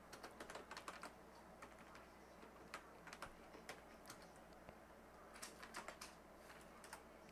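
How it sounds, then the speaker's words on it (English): Quiet, rapid clicking of keys on a computer keyboard, typed in irregular bursts of taps with short pauses, close and soft against a low background hum. "I'm typing in the name and stuff right now."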